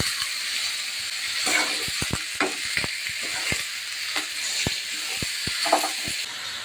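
Potatoes and flat beans sizzle and fry in a pan, a steady hiss broken by sharp stirring clicks and scrapes of a utensil against the pan, close and fairly loud.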